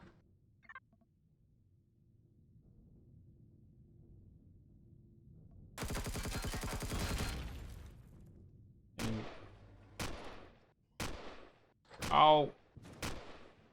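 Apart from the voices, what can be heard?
gunfire through a wall in the video game Empyrion Galactic Survival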